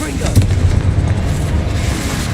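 A Confringo blasting spell explodes in Hogwarts Legacy with a loud, full-band burst near the start, followed by a rumbling, crackling tail that keeps going to the end under sustained noise.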